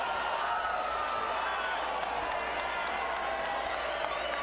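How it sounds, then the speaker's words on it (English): A large boxing arena crowd in downtown Los Angeles roars and cheers with applause, a dense, continuous wall of noise at a steady level, with some distant shouts rising above it. "listen to this crowd here in downtown LA"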